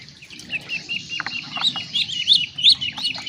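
Muscovy duckling peeping while held by the head for sexing, a string of high, thin chirps that grow louder and quicker toward the end, close up over a soft low background rumble.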